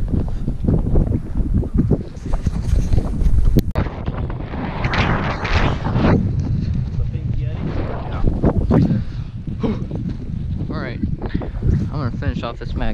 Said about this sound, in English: stand over here out of the wind